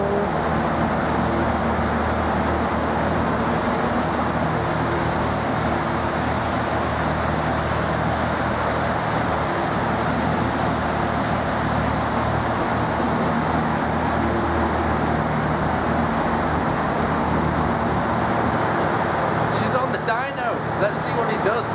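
A single-turbo Toyota Supra running on a dyno, a steady broadband engine and roller roar held loud and constant, with a brief clatter near the end and voices under the din.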